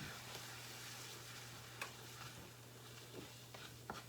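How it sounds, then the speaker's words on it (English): Eggs sizzle softly in a hot pan for a breakfast pizza, with faint scraping stir strokes and a few light clicks of a utensil against the pan over a steady low hum. "let me stir the eggs"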